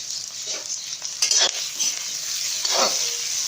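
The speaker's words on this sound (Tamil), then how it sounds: "வெங்காயத்தை வதக்கிங்க" Onions sauté in a pan for a South Indian Chettinad chicken curry, making a steady close sizzle with a few louder scraping stirs of a spatula.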